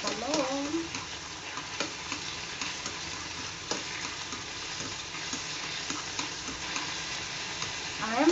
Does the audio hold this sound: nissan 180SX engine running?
no